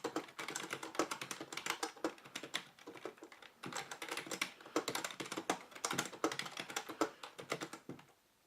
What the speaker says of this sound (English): we can do some test typing